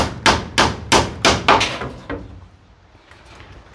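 Six or seven sharp hammer blows driving nails while extending a kitchen, evenly spaced and loud, then fading into quiet room tone.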